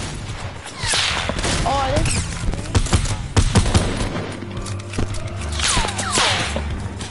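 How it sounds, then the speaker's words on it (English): Video game battle with grenades being dropped in a shrinking circle: dense bursts of gunfire and fusillade crackle, with sharper shots and thuds running throughout, loud and close, under excited voices talking. "They're dropping nades, bro."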